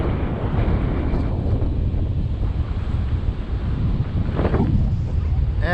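Strong wind roars steadily into the microphone of a DJI Ryze Tello drone flying in extreme wind, a loud, continuous rumbling buffet with no break.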